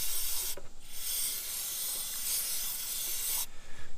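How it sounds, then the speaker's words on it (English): A can of carb cleaner hisses in steady spray bursts into engine threads, close and fairly quiet, with short pauses between sprays. "we're just gonna spray a little bit of this in there, kind of flush that down"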